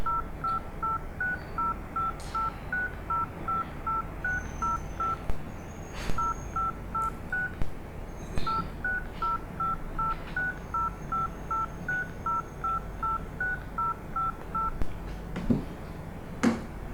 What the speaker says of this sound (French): Bon, je vais lui envoyer un texto.